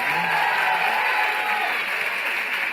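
Audience applause from a crowd at a Casa TPM 2016 talk event, a steady dense wash of clapping that stays loud and even throughout without breaks.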